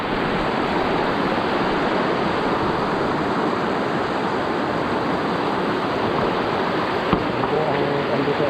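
Irrigation water gushes steadily into a rice paddy, a dense, continuous rushing roar close by with no pauses, holding an even loudness throughout with only a brief knock near the end.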